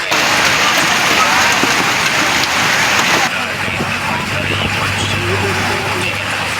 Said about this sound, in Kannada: ಬೆಟದೂರು ಶೇರೆವಾಡ ಹರಿಯಾಳ ಇರುವಂಥ ಅಣಿಕಲ್ಲಿನ ಮಳೆ ಆಗಿದೆ ನೋಡು.